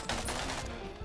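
Rapid gunfire in the VR game Bonelab, a dense, loud burst of shots that fills the whole brief moment, heard close up.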